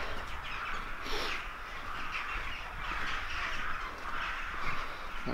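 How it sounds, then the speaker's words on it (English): Crows cawing in a snowy medieval citadel in Sighisoara, Romania: a dense, continuous chorus of many birds calling at once, steady and fairly loud with no gaps, under a broad outdoor wash. "Just have a look at all those crows."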